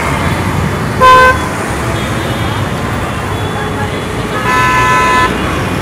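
Busy road traffic in South Mumbai, with two clear car horn blasts standing out, a short one early and a longer one near the end, over a steady roar of engines.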